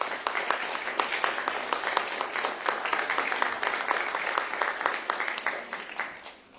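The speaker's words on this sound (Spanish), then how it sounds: "primeramente un aplauso para el maestro Juan Muñoz." An audience at an academic panel on big data and scientific research applauds with dense, steady clapping for about six seconds, then tapers off at the end.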